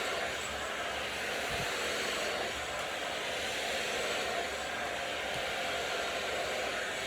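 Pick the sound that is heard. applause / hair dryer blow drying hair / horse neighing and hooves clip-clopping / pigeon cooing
hair dryer blow drying hair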